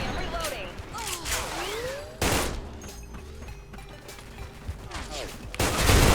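A SIG551 assault rifle fired in the online shooter Special Force 2, heard as sharp bursts of gunfire, one mid-clip and another at the end, while someone talks excitedly throughout.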